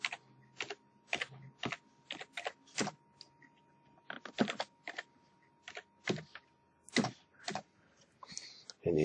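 Keys are struck one by one on a computer keyboard while typing into Microsoft Word 2013, sharp, distinct clicks at an irregular, unhurried pace, close and moderately quiet with near silence between strokes.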